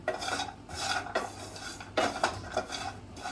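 Grated coconut being dry-roasted in a hot pan without oil, with a metal spatula scraping and clinking against the pan in irregular strokes, close and moderate, sharper knocks around the midpoint and near the end, no voices.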